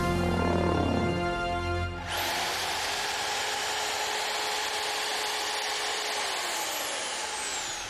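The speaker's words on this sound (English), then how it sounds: "Now I can crack on with some drilling" An electric drill spins up and runs steadily for several seconds while boring a pilot hole through helicopter parts, a loud, even whine close by that holds one pitch and never pauses.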